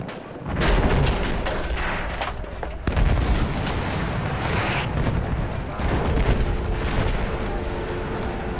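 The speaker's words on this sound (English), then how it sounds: "enemy machine gun!" Gunfire in a Battlefield 1 match, loud, close bursts and booms cutting in sharply, followed by sustained rattling fire and distant explosions, with faint in-game voices in the mix.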